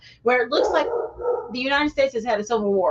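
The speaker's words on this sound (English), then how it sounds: "I apologize if you can hear the dog barking in the background" A dog barks downstairs in the background, its yips and barks sitting faintly behind continuous close speech that dominates throughout.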